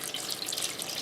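Water pours steadily into a roasting pan holding a corned beef, a brief close splashing rush with a bright, continuous hiss.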